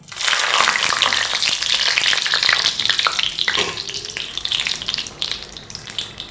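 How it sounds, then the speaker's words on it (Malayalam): Dried red chillies, three or four of them, dropped into hot oil left from frying bitter gourd, giving a loud, steady crackling sizzle that eases slightly toward the end, with faint clinks of stirring. "3-4 ഉണക്കമുളക് ഇട്ട് കൊടുക്കാം"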